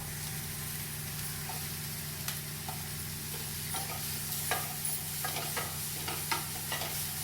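Onion and green chillies sauté in a pan, giving a low, steady sizzle with occasional soft scrapes of stirring that grow more frequent toward the end, quiet and close with no talking.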